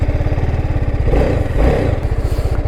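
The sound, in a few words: TVS Apache RR 310 BTO motorcycle engine while riding on track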